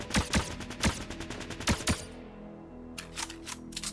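Reg SMG fire in Fortnite: several quick bursts of close, punchy automatic shots in a clipped rhythm, a short lull, then a few more rapid shots near the end.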